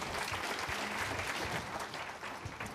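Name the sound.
audience applause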